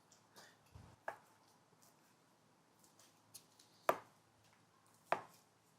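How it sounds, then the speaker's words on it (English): A knife chops grilled wagyu tri tip on a board for tacos in a few sharp, separate strikes spaced a second or so apart, with quiet gaps and no talking. "we're gonna go ahead and chop this up quick"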